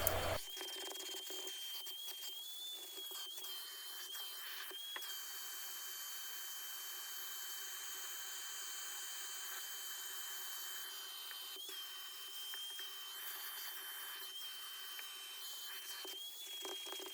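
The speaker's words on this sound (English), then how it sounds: "I have to go over it with the drill brush multiple times to get that stuff loosened up" A drill brush scrubs the interior of a 2014 Subaru WRX during a deep-clean detail, a continuous whirring motor with a rubbing bristle rasp that holds steady and near throughout, with no talk.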